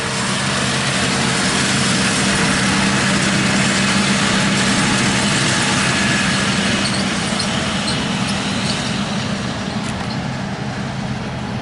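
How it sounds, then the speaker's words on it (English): A tractor engine runs steadily at a constant idle-like drone for the whole stretch during haymaking, with no voices over it. "There's the other tractor. He's coming around raking."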